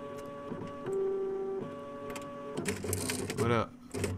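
A printer runs with steady mechanical whirring and pitched motor tones, then shifts into busier clattering and feeding sounds, while a person speaks over part of it.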